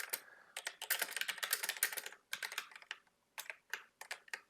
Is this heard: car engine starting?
no